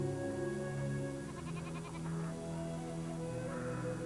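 Goats on a remote hillside bleat in a short burst of wavering calls over a steady background drone, fairly distant and with no voices.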